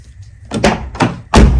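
A repaired Skoda Octavia car door after accident bodywork gives three solid thunks as it is opened and shut, the last closing the loudest, close by.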